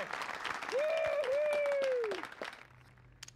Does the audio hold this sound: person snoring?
no